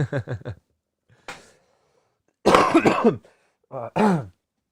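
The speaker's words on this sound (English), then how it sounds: "Excuse me for the coughs, guys." A quick burst of several short coughs, then after a pause a longer rough coughing fit and a couple of final harsh coughs, close to the mic.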